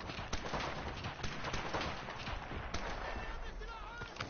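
Sniper rifle fire in a PS4 shooter game, a scatter of sharp shot impacts heard in a busy, continuous game mix with a voice talking over it.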